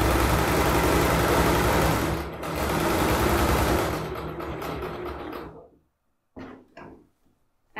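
A sewing machine runs steadily while stitching a zippered bag, a close, rapid mechanical whirr lasting several seconds before stopping, followed by a couple of short clicks and handling sounds.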